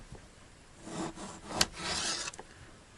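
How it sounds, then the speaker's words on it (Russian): Knife cutting pork fat (salo) into thin slices on a board, a few scraping, rasping strokes with one sharp tap in the middle, close and fairly quiet. "Сало нужно нарезать тоненькими ломтиками"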